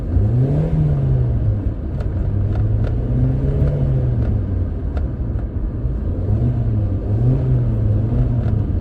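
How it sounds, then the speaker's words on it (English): A 1997 Toyota Corolla engine with a cold air intake revs steadily in neutral, a loud, continuous close drone that rises and falls in several smooth swells. "It sounds relatively similar when you're just revving it."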